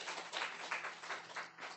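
Congregation applause at a Wednesday evening church service: a dense, steady wash of many hands clapping together for about two seconds, swelling and easing slightly, with no voices over it.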